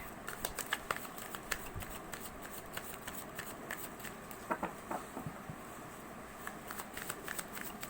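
Tarot cards are shuffled close by, a quick series of soft riffling flicks and papery pats in irregular bursts, fairly quiet with no talking.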